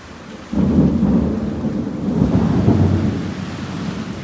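A deep roll of thunder breaks out suddenly and rumbles on for several seconds as rain begins to fall, a steady hiss of rain under the low rumble, heard from indoors by an open window.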